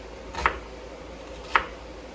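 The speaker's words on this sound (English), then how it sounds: "I'm just gonna do a rough chop because I'm gonna immersion blend it anyway" Two crisp knife strikes on a cutting board as peppers are rough-chopped for salsa, spaced about a second apart, close and clear with no talking.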